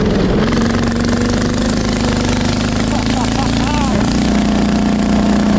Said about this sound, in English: We're going, baby. In the diesel Go-kart.